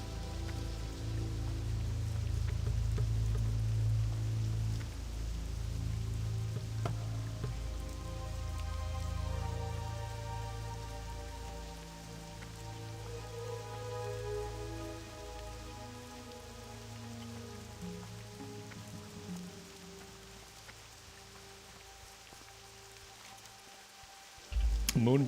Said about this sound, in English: It looks like it's a rainy night in Westfall.